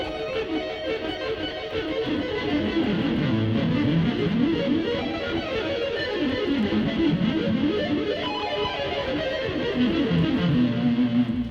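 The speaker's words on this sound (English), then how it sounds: "if I'm doing hammer-ons, a lot of times I'll double up on the first couple notes" Electric guitar plays fast hammer-on runs, doubling up on the first notes of each group, with a continuous, steady stream of legato notes at a constant level and no speech.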